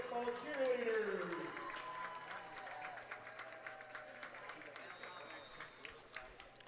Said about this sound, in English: Let's give a big round of applause for our Livonia football cheerleaders.